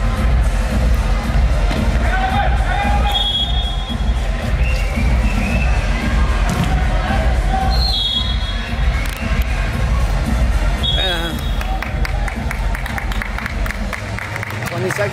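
A basketball championship crowd claps and cheers in a loud, continuous roar, with shouts, whistles and babbling voices rising and falling over sharp hand claps.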